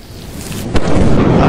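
Lightning strike in the video game Lethal Company: a sharp crack bursts out, followed by a rolling thunder rumble over steady rain, loud and close.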